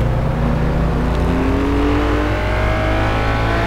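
A 1957 Ferrari 250 Testarossa in the racing game Test Drive Unlimited 2, though the mod still uses a Jaguar engine sound; a loud, steady engine drone climbs gradually in pitch as it revs, continuous throughout with no talking.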